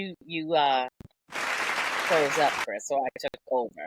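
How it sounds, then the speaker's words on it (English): A burst of applause sound effect played during a show, a dense clapping wash lasting just over a second between stretches of speech, with a voice talking over it. "Was that an applause break?"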